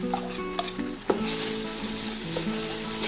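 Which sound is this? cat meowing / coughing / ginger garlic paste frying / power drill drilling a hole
ginger garlic paste frying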